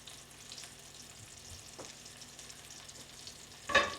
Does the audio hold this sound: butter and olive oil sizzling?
yes